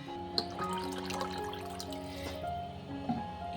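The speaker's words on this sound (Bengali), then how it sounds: "এতে আর একটু জল দেবো" Water poured into a cooking pot in a home kitchen makes a soft, close trickle with a few small splashes and drips, quiet and continuous.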